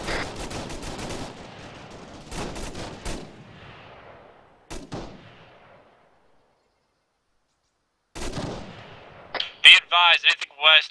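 Gunfire in a military video game: several loud, sharp shots and bursts with echoing tails, a pause of silence, then more reports followed by a brief crackling radio-like voice.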